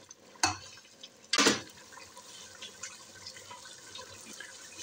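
Water splashes in short bursts into a cooking pot while making beef or potato pulao with soaked rice, two distinct pours followed by lighter trickling and faint clinks.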